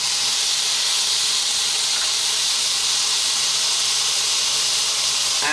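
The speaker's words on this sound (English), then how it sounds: "We're now going to drop in that onion cut nice and small." Chopped onion dropped into a hot pan of browning eggplants gives a steady, loud sizzling hiss that runs evenly throughout with no talking.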